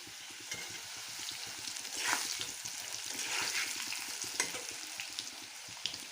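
Potato pieces fry in oil with whole cloves, cardamom and cinnamon, giving a close, steady sizzle with occasional louder crackles and the soft scrape of stirring throughout.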